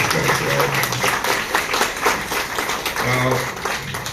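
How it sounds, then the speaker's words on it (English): A crowd gives a steady round of applause at a closing ceremony, thick continuous clapping close by with voices talking through it. "Can we give them a round of applause?"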